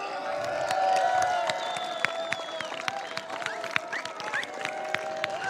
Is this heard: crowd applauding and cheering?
yes